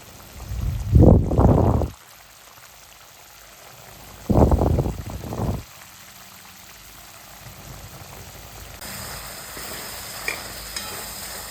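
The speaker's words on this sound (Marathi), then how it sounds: "अशा प्रकारे आपल्या कालवणाला आता उकळी फुटायला लागलेली आहे" A pot of river mussel curry comes to a boil, with two loud bursts of bubbling and stirring close by and a quieter simmer between them.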